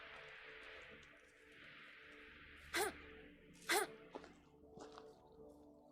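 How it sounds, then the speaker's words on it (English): Pumpkin, a companion in a medieval farming game, lets out two sharp sneezes about a second apart over a steady ambient background, followed by a few fainter short sounds. "Thanks, Pumpkin, for sneezing on me."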